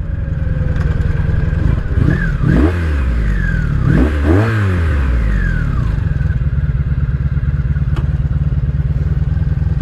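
A motorcycle engine idles with a steady low thrum, broken by a few throttle blips that rise and fall in pitch before it settles back to a loud, even idle.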